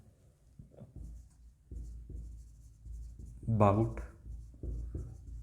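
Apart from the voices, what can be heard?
writing on paper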